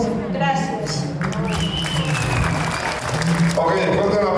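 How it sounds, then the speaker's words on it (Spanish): Guests at a wedding break into sustained applause, a dense wash of clapping running throughout while a voice carries over it. "fuerte el aplauso, fuerte la palma, damas y caballeros"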